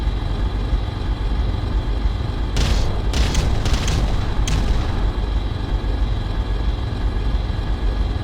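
Artillery bombardment in the real-time strategy game Ground Control, a cluster of sharp explosion blasts over a constant heavy low rumble of battle noise.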